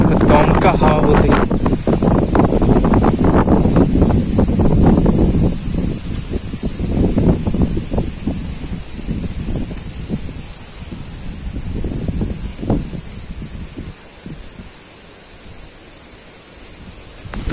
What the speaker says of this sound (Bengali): দমকা হাওয়া বলতে।